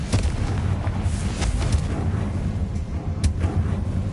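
A Confringo spell in the Hogwarts Legacy video game sets off a deep, rumbling explosive blast with a few sharp pops on top, loud and sustained throughout.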